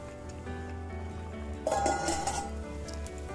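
Metal lid clinked onto a cooking pot of beef curry, a short rattling clatter in the middle of a quiet kitchen with a low background hum.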